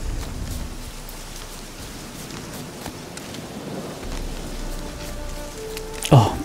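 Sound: rain falling in the video game The Witcher 3

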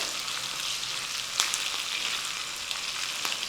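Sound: spice tempering sizzling in pan

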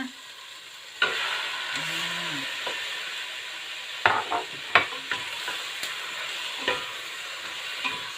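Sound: beef frying in a pan with shallots and garlic

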